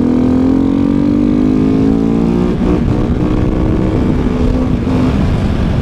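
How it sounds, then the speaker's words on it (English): A Husqvarna supermoto motorcycle engine drones steadily while being ridden, loud and close, its pitch sliding smoothly as the rider holds the throttle through the gears. "Today we're riding the Husqvarna,"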